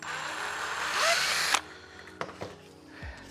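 A power drill widens a 4mm hole to 6mm in thin plastic armour, a loud whining burst for about a second and a half, then stops, followed by a few sharp clicks and knocks.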